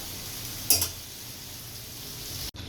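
Meat being kosha-sautéed in a pan gives a steady low sizzle and frying hiss, with one brief bright clink of a utensil near the start and a sudden cut near the end; no talking.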